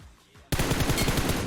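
After a brief quiet moment, loud rapid gunfire bursts in, a continuous automatic stream of shots close up, in PUBG Mobile.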